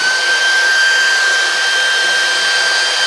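A Levoit AERO cordless vacuum's auto-empty station running its self-emptying cycle gives a steady, loud, high-pitched motor whine with a constant airflow hiss, close by and alone, with no talking.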